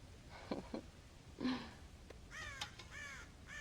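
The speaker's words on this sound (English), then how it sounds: "God damn crows!" Crows caw in Red Dead Redemption, several harsh, rasping calls in a quick cluster over faint game ambience, following a few earlier muffled thumps.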